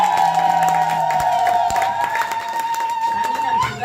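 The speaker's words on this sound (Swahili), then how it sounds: "Makofi kwa ajili ya Bwana." A church congregation applauds and cheers together, clapping and whooping for a few seconds at fairly close range, with a sustained voice or tone running underneath.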